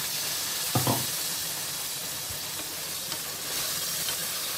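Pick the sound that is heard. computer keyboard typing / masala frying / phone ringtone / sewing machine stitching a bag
masala frying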